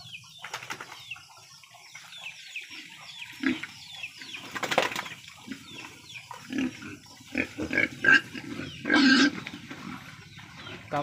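Pigs on a farm, with scattered grunts and louder squeals rising toward the end, close and fairly clear over a quiet background.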